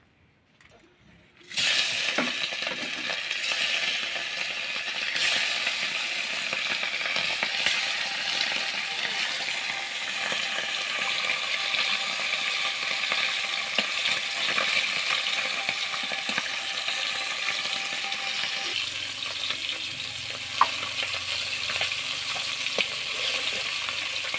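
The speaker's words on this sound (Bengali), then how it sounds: "কড়াই তেল নিয়েছি মাছটা এবার ভেজে নেব তেল গরম হয়ে গেছে" Rui fish frying in hot oil in a wok, a steady close sizzle and crackle that starts abruptly and continues loudly with faint stirring clicks throughout.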